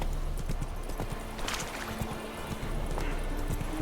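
Hooves of the horse Roach clopping steadily in The Witcher 3 video game, a rhythmic near clip-clop over a soft background bed, with a brief snort-like burst midway.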